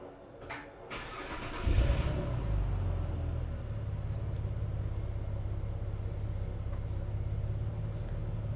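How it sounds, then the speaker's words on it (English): A car engine cranks and catches, then settles into a steady low idle that runs on evenly, close by and alone, on a 4WD fitted with a 25-amp DC-DC charger. "Matt, can you turn on the car, please?"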